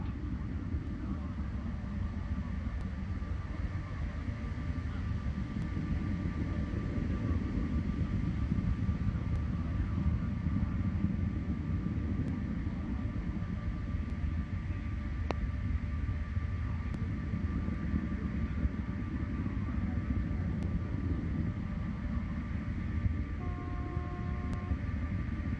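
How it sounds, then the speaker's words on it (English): A Soyuz TMA-09M rocket lifts off into the night sky over Kazakhstan, producing a steady, dense roar that holds at an even loudness throughout without letup. "Soyuz blazing into the night sky over Kazakhstan."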